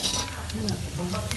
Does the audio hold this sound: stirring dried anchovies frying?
yes